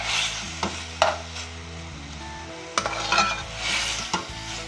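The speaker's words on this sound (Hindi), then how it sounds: "इसको अच्छी तरीके से आपने थोड़ा फ्राई करना है ऑयल में।" Pita bread frying in oil in a pan for pizza, giving a steady soft sizzle broken by occasional stirring scrapes and light utensil clinks, with no talk.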